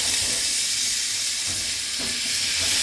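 Garlic sizzles in a hot pan alongside seared steak for pepper steak, a loud, steady frying hiss filling the moment with small crackles and pops scattered throughout.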